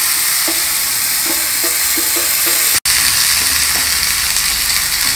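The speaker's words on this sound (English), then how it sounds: "adding this boiled chana" Boiled chana being stirred in a hot pan with hing and curry leaves, a steady close sizzle with rhythmic scraping strokes and one brief dropout partway through.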